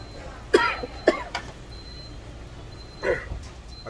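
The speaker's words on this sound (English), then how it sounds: "Coughing so much." Three sharp coughs ring out close by: two quick ones in the first second, then a third a couple of seconds later against quiet background noise.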